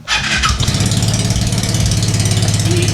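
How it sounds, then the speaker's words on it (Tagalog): A Vespa Sprint S150 scooter engine starts and keeps running, making a loud, close, steady putter with rapid even pulses and no talking. "We are turning on the Vespa"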